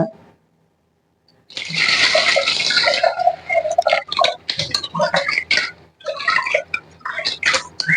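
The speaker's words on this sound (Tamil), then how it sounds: "பருப்பை ஒரு ரெண்டு தண்ணி ஊற்றி நல்லா வாஷ் பண்ணிடுவேன்" Dal lentils are rinsed in water, with a burst of pouring and sloshing followed by repeated swishing, clattering splashes close up, after a brief silent start.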